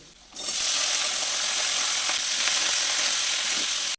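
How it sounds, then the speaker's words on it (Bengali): Spring onion stalks hit hot oil over already fried potatoes and hiss loudly, a steady close sizzle that starts abruptly and holds, with faint scraping of stirring, no talk. "পেঁয়াজ কলিটা দিয়ে 1 মিনিট নাড়াচাড়া করে"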